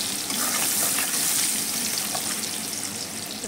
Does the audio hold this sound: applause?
no